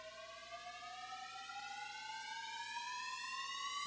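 A synth riser in a techno track, a smooth tone sweeping steadily upward in pitch and swelling slightly in loudness over a few seconds, heard alone and fairly quiet.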